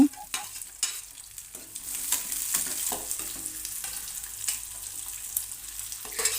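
Onions with garlic added, frying in a pan for a chicken sambar, crackling in a steady close sizzle broken by sharp scrapes and stirring clicks, no voices.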